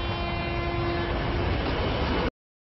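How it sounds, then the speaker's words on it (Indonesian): A train passes very loudly at night: a continuous heavy roar of rolling wheels with a sustained horn-like tone running through it, holding steady before cutting off abruptly. "terdengar suara kereta api dengan sangat keras"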